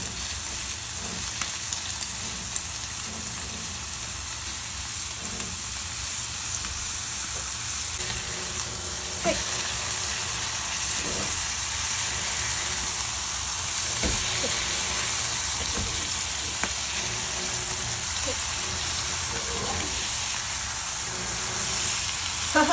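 Whitebait and egg pan-frying, a steady close sizzle with faint scattered pops and occasional clicks of a utensil, no talking.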